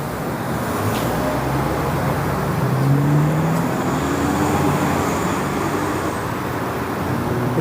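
A truck on massive tires drives past on Keele Street in Toronto's Junction on a winter Saturday, its steady road rumble and engine blending into continuous nearby traffic noise with no talking.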